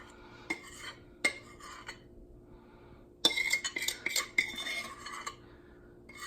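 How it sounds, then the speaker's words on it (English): A spoon scooping icing into a couple of bowls, with sparse metallic clinks and scrapes against the dishes, a few isolated taps followed by a busier cluster of clattering, close and quiet. "you can scoop the icing out into a couple different bowls"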